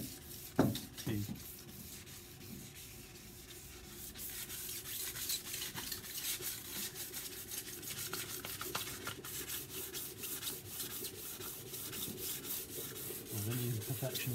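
Car paintwork is sanded by hand to key the surface, giving a continuous scratchy rubbing with steady back-and-forth strokes, close and fairly quiet, plus a few soft knocks near the start.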